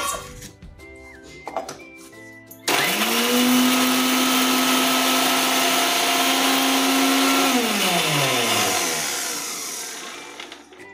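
Electric kitchen blender grinding garlic, green chillies and ginger into a paste for Maharashtrian alu vadi, starting abruptly with a loud steady whir that holds for several seconds, then winds down, with faint clatter before and after.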